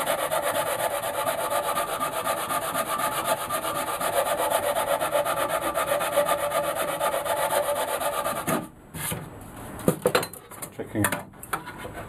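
Wood is sanded with a radius sanding block in steady, continuous rasping strokes, close and fairly loud, giving way near the end to a few scattered scrapes and knocks.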